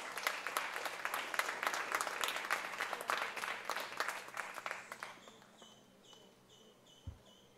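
An audience applauds as a state legislator is called onto the stage at a formal charity event attended by a governor, loud, dense clapping that thins out and fades over the last couple of seconds.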